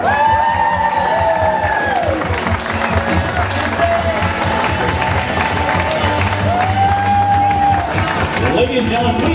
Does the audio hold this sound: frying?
no